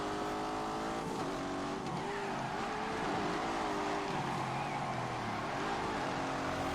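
Racing car engine in The Grand Tour Game, an old-fashioned racing car driven around a lap, droning loudly and continuously with shifting revs throughout.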